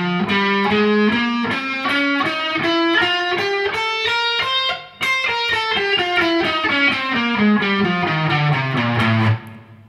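Distorted electric guitar plays a rapid, steady finger-dexterity exercise of single notes using a 1-2-4 fingering pattern, climbing then descending, loud and close with no talking.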